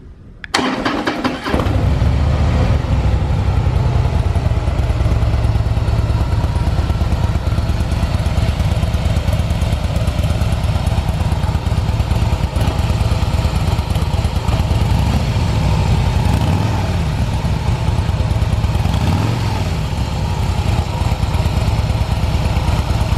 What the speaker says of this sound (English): there was very little vibration in the engine when it was running